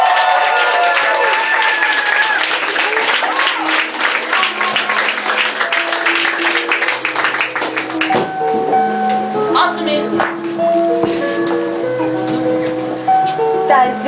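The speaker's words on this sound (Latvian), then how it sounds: "kuru mēs sagaidām obligāti ar aplausiem" Audience applause welcoming the vice-president of Zaļā zeme onto the stage at an outdoor green-ideas gathering, loud and dense at first, then thinning into scattered claps under a tonal musical or chime-like background.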